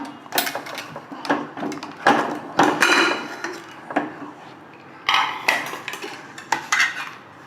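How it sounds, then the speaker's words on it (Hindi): Metal clanks and knocks close by as a depressurized pressure cooker holding stuffed eggplant has its lid handled and opened, in a series of loud, irregular clatters with short pauses. "प्रेशर ख़त्म हो चुका है, कुकर खोल लेंगे हम।"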